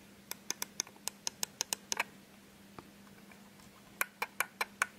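A Microsoft computer mouse clicks sharply and close up, first in a quick run of about a dozen evenly spaced clicks, then a pause with one lone click, then another fast burst.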